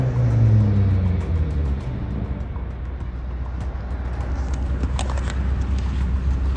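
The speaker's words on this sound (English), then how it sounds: "He speeds off, and you can hear that engine roaring like a beast." A car engine roars as the vehicle speeds away, a loud low rumble with a falling pitch sweep at first, then settling into a steady roar with road noise, no voices over it.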